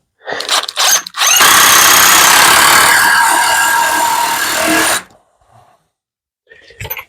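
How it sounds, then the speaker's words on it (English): Power drill driving a screw into a wooden piece: a couple of short trigger bursts, then about four seconds of loud, steady whirring, ending abruptly, with faint handling noises after. "Another screw in."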